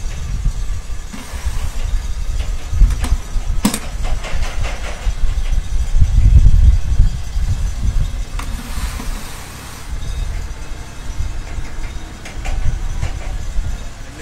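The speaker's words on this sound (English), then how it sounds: "we'll start the engine up" A pressure washer engine fires up and runs with a steady, rough low rumble and hissing, loud and close, with some clanks over its continuous drone.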